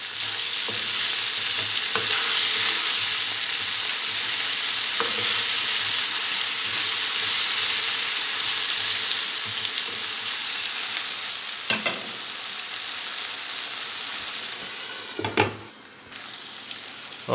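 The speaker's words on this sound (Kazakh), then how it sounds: "картошкамызды где-то 2 минуттай немесе 5 минуттай қуырып аламыз" Potatoes frying in oil in a pan and being stirred, a steady loud sizzle throughout with occasional scraping stirs of the spatula, no talking.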